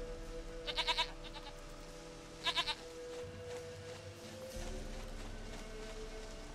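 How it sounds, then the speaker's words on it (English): A goat bleats in The Witcher 3, two short wavering bleats a couple of seconds apart, fairly faint over a low game ambience hum with no talking. "My dearest, sweetest goat!"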